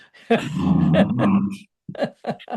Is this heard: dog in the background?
yes